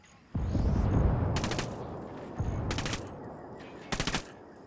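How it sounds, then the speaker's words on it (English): Mortar indirect fire in the video game Ghost Recon Wildlands: heavy rumbling impacts and three separate bursts of rapid cracking fire, loud at first and then easing off, with no talking. "I'm calling for indirect fire. Counter battery fire, go!"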